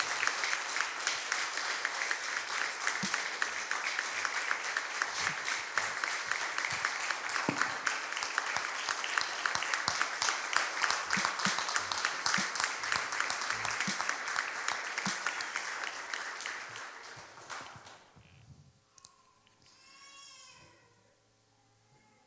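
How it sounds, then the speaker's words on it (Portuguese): A church congregation applauding in a long, full burst of clapping that swells and holds for most of the stretch, then fades away as a voice comes in at the end. "Aplauda o Senhor pela vida de cada pai que aqui está"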